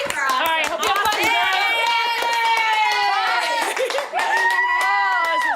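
An excitable crowd claps and cheers loudly, with rapid clapping under overlapping high excited shouting and chanting voices, continuous and close.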